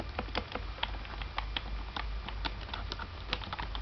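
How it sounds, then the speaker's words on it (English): Someone types on a Logitech Wave Pro keyboard, with quick, irregular clicking keystrokes close up and nothing else in the background. "So this is the Logitech Wave Pro keyboard."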